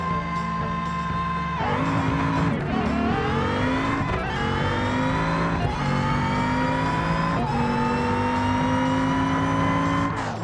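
An all-wheel drive Lansdale minivan in BeamNG makes a drag run, its engine roaring loud and steady with rising pitch through repeated gear shifts, each upshift dropping the note before it climbs again.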